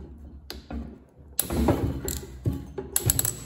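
Ratchet wrench clicks and sharp metallic cracks as torqued bolts are broken loose on the head cover of a Honda ATC200 engine, a few close irregular bursts of ratcheting.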